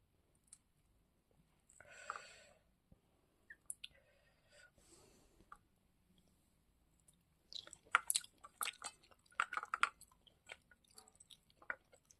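Someone eats tawa-fried tilapia up close: soft, intermittent chewing with small wet clicks and squishes, quiet at first and then busier, with no talking.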